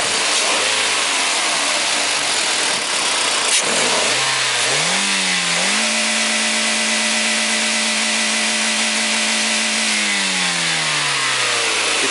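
A Toyota engine revs up from low speed in stepped rises, then holds steady against the rev limiter at about 6,600 rpm. The loud sustained mechanical drone with rising harmonics carries on alone for several seconds before easing off.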